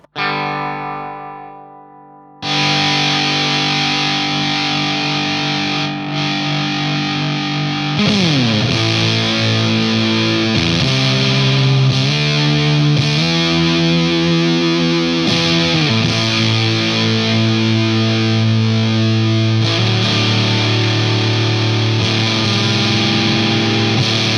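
An electric guitar played through a vintage Sola Sound Tone Bender fuzz pedal's thick, saturated tone, sustained chords and sliding notes ringing loud and continuous after a brief quiet start.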